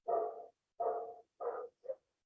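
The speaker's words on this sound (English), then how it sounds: "Is this dog disturbing you?" A dog barks four times in quick succession, fairly loud and alone, with the last bark short and clipped, interrupting a physics lesson.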